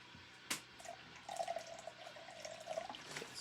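Spring water is poured into a measuring cup in a home kitchen, a faint, close trickle with gurgling after a small clink at the start, running on with no talk over it.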